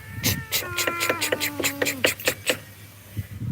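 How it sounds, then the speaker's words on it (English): Two cats squaring off in a fight, with drawn-out rising and falling yowls and caterwauling over a run of sharp, scratchy bursts, up close and loud. "my cat is going to fight with another cat here"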